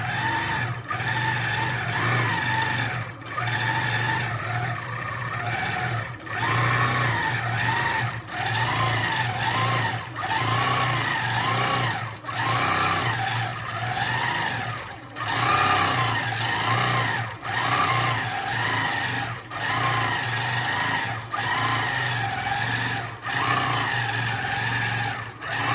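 A longarm quilting machine stitching free-motion feathers on a quilt: a steady, loud mechanical hum with fast stitching chatter that swells and pauses in short regular bursts as the needle moves, close with no talk.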